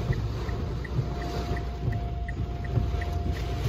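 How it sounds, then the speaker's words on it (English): Strong straight-line storm winds from a mesoscale convective vortex in southern Illinois roar steadily around a moving vehicle, a loud continuous rush with low rumble and faint regular beeping, with no talking. "I'm in a miniature hurricane."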